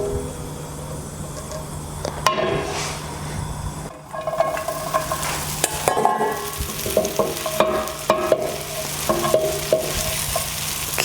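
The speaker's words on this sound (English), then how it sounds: "Next thing we'll do is fry the bread." Bread fries in a pan while being stirred, giving a steady close sizzle broken by scraping and clicking strokes of the utensil against the pan.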